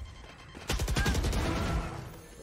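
A quick run of rapid gunshots from the tactical shooter Valorant breaks in after a quiet start, fast and punchy at close range, then trails off into a fading ringing tail.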